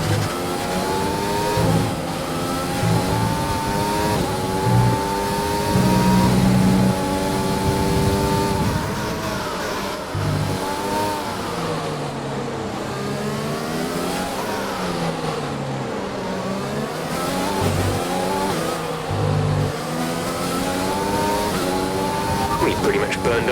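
A Formula 1 race car engine from F1 2020 holds a high, sustained whine as it revs and shifts through gears over several seconds, with the pitch rising and falling while the car races.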